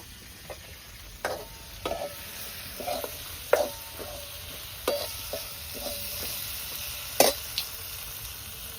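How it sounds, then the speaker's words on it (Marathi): Kurdi frying in hot oil in a home kitchen, a steady low sizzle broken by scattered sharp scrapes and clicks from stirring, close and moderately loud, with no talking. "या आता तेल टाकून चांगली तळून घ्यायची"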